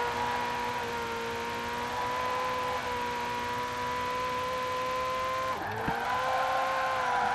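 Ferrari Portofino convertible in Forza Horizon 4, its engine holding a steady, loud hum before a sharp dip and recovery from a quick gear shift near the end.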